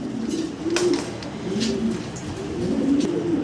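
Pigeons at a pigeon seller's loft in Natore, Bangladesh, coo in soft, repeated rolling calls, close by and overlapping in a steady rhythm, with no talking.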